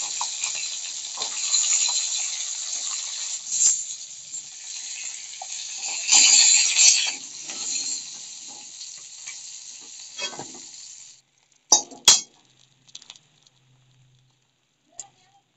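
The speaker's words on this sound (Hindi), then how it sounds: "इसी तरह सब मछली भून लेंगे।" Rohu fish pieces fry in a pan with a steady, bright sizzle for about eleven seconds, with occasional stirring clatter. The sizzle then stops, and a few sharp clanks and a short low hum follow in near silence.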